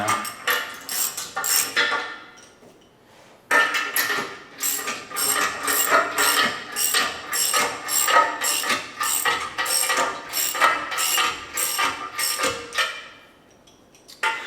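A ratchet wrench snugs down bolts on an International Farmall Super H tractor under restoration, giving close, steady bursts of rapid clicking with a short pause near the start and no voices.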